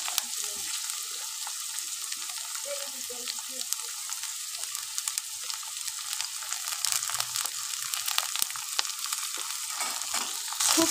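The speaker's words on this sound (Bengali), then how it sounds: "খুব সুন্দরভাবে নেড়ে চেড়ে ভেজে নেব।" Chopped capsicum stir-frying in a pan, giving a constant bright sizzling hiss with light, irregular scrapes and taps as it is tossed and turned, close and moderately loud.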